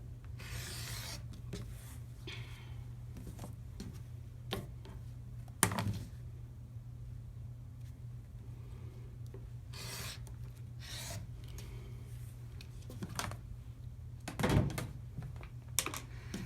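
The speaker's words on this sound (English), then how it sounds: "I just need to cut them once to give me 2 triangles from each one." Quilt fabric corner squares being cut once across into triangles, with soft scraping rasps at scattered moments and a few sharper strokes, close and faint against quiet background with no talk.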